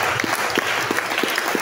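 Church congregation clapping together in praise, a loud dense round of applause with a faintly rhythmic beat, continuous across the short moment.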